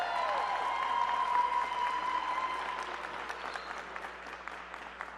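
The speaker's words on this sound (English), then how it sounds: "So let's give yourselves a round of applause first." Schoolchildren give a sustained round of applause at a school event with Washington DC's mayor, a dense, steady wash of clapping from a crowded room that slowly thins and fades.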